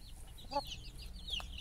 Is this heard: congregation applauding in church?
no